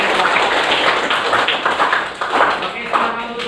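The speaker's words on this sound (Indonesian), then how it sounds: "tepuk tangan" A class of children clapping their hands together in a classroom, a busy, uneven patter of many hands lasting several seconds at moderate loudness.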